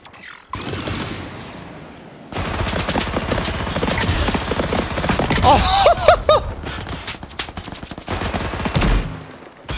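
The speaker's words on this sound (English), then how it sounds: "I'm getting shot from behind." Rapid gunfire and bursts of automatic shooting in the online shooter game Off the Grid, loud and close, with repeated volleys layered over game ambience across most of the stretch.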